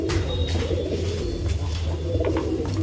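Caged Madras high-flying pigeons kept in a tray-system loft coo continuously in low, throaty rolling calls, several birds overlapping close by with no talking.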